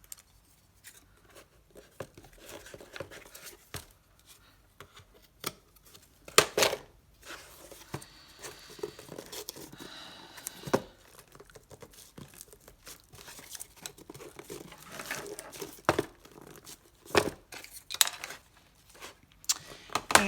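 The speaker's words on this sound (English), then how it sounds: "And I'm going to trim this piece of lace." Scissors trim a piece of lace for an altered book box, with close, quiet snips, paper-like crinkling and handling rustles in irregular bursts, some sharper clicks.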